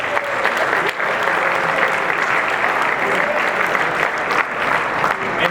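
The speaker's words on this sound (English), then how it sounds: "So give yourself a round of applause." Audience applause at a Lambda Chi Alpha fraternity 100-year gala, dense sustained clapping from a large crowd that holds strong throughout.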